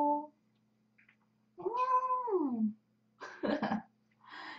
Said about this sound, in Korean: 저희 집 고양이에요.